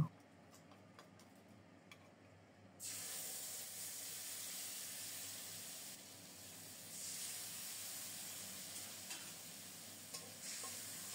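Ground spice paste of coriander, cumin and ginger mixed with turmeric and chilli powder hits hot oil with tempering spices, starting a loud steady sizzle a few seconds in that continues with stirring under no talk.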